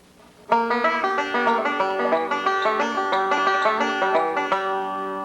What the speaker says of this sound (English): Now we're going to go right into that long Earl Scruggs lick.